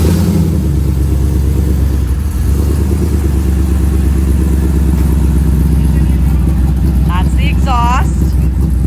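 A custom off-road vehicle, already started once that morning, idles in a shop with a deep, steady exhaust rumble that fills the space, joined near the end by a brief rising squeal.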